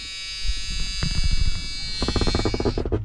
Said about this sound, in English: Sorry for the buzzer noise.